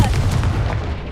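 A Confringo fire spell from Hogwarts Legacy bursts with a loud, dense boom that rumbles and fades over about a second, heard alone and up close.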